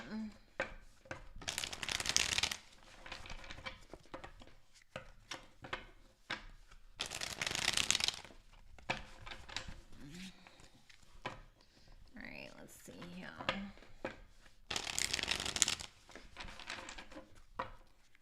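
Three separate bursts of tarot card shuffling, a quick riffling flutter each time, close by, with soft handling noises and quiet talk between them.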